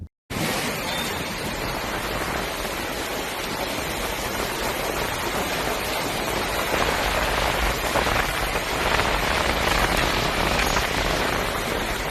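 Steady rain pours down on a surface, a dense, even hiss of drops that stays loud and unbroken throughout, with no voices.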